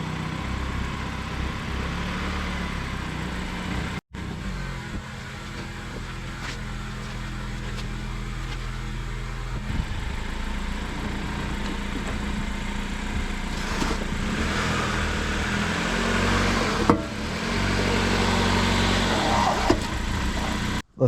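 A 2014 Honda Accord engine runs at a steady, even idle, close by and continuous, with a brief dropout early on and a slight rise in level near the end, without talk.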